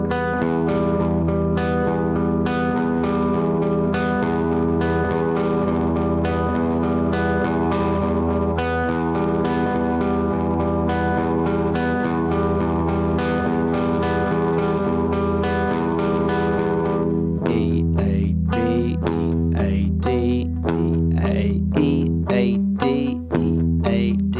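Electric guitar with heavy effects plays a repeating arpeggio over the first chord of a song, sustained and echoing, then changes to sharper, choppier plucked notes near the end.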